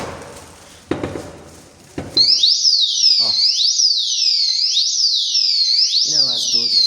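A motorcycle's anti-theft alarm goes off after a couple of clunks from the handlebar being moved: a loud, piercing siren sweeping up and down in rapid repeating whoops, with a brief rattle partway through.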